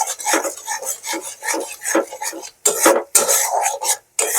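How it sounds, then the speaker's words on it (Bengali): Spice masala for chana masala being stirred hard in a pan, a rapid run of close, loud rasping scrapes of the spoon against the metal, with two short pauses near the end. "এটাকে আমি এবার ভালো করে মশলাটাকে কষাবো।"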